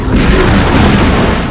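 A loud, deep explosion roars in the video game Shadow Warrior Redux, a dense rumbling blast that fills the moment with heavy low-end boom and no speech.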